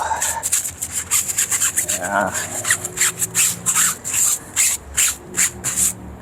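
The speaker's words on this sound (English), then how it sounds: "Has quite hard brushes, as you can hear, but you're really able to loosen the dirt with it quite well." A stiff, hard-bristled brush scrubs a car wheel in quick repeated strokes, producing loud, rhythmic rasping bursts close up, with a voice speaking faintly beneath the scrubbing.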